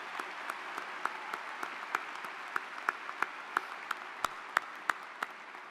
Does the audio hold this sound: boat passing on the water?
no